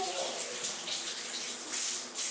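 Tap water runs steadily into a basin while cloth diaper inserts are rinsed by hand, a close continuous rush with a voice faintly audible at moments.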